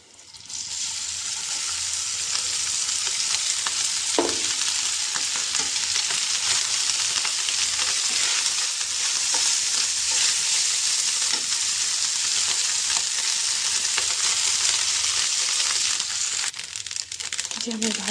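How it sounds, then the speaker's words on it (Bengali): Cooked rice fries in a hot pan while being stirred, producing a loud, continuous close-up sizzle with scraping and crackling that runs almost the whole time, a voice briefly heard near the end. "ভাজা হচ্ছে"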